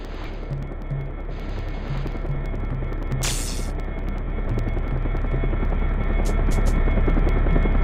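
A helicopter's steady, loud rotor thrum in the video game Syphon Filter 2 fills the scene, growing slightly louder over time, with a brief burst of noise partway through.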